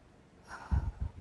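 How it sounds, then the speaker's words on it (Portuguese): A single deep breath is drawn in softly, followed by a couple of low, breathy exhaled puffs, close and quiet with no talk. "Para, faz uma pausa, faz uma respiração profunda."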